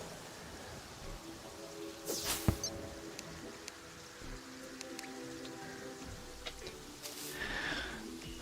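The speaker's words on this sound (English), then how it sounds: "And it's raining." Light rain patters and drips in the Terraria video game, a faint steady wash with scattered soft splashes and a couple of brighter bursts.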